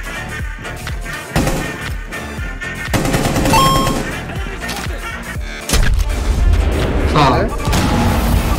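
Rapid gunfire bursts and booming shots from the tactical shooter game Rainbow Six Siege crackle loudly in a dense, continuous mix, with a player's voice briefly exclaiming over the action.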